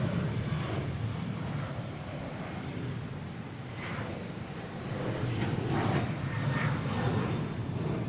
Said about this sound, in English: We got United Airlines coming in on 27.